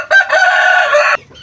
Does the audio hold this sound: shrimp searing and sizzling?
no